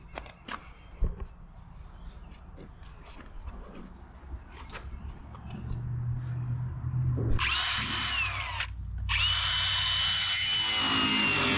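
A power tool cuts into the sheet-metal body of a 1959 Chevrolet Apache truck, with scattered scrapes and knocks at first, then a loud continuous high whine that starts, breaks off briefly, and resumes close by.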